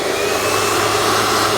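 A Hoover Elite Rewind Deluxe upright vacuum cleaner runs with a loud, steady motor whine and rushing airflow, close and continuous with no talk.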